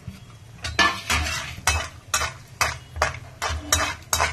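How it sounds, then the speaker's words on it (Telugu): Cashews and raisins fry in a pan for sweet bansi rava kesari while a utensil stirs them in a steady rhythm of about eight scraping strokes over a soft sizzle, close and fairly loud, with no voices. "ఇప్పుడు జీడిపప్పు కొద్దిగా వేగింది, దానిలో మనము కిస్మిస్ కూడా వేసేసుకుంటున్నాం"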